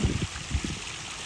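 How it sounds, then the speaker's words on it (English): Water spills down small garden waterfalls in a steady, close rush of splashing and trickling, with a few slightly louder gurgles early on and no talk. "we've got these really cool waterfalls"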